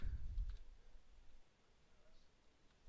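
Faint, sparse clicks of typing on a computer keyboard, soft and close, with a few louder taps early and quieter ones after.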